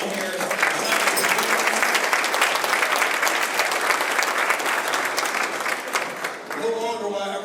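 Sustained applause from an audience at an annual cup celebration, dense and loud for several seconds before dipping briefly and continuing as the clapping tapers.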